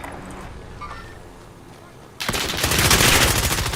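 A FARA-83 rifle fires in Call of Duty Warzone, unleashing a loud, sustained burst of rapid automatic gunfire that cuts in abruptly after a quieter stretch of game ambience and runs to the end.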